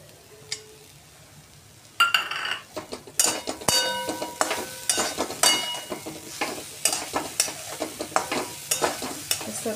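Grated coconut and jaggery scraped and stirred with a spoon in a hot pan for patolya, starting quiet, then a dense run of sharp scraping clicks over a steady sizzle, close and loud with no talk.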